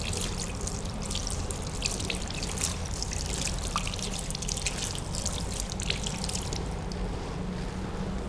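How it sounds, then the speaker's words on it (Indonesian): Tap water running steadily from a faucet while hands are rinsed under it, a continuous soft splashing trickle with small irregular spatters, fairly quiet and close, with no voices. "Kemudian bilas dengan air mengalir."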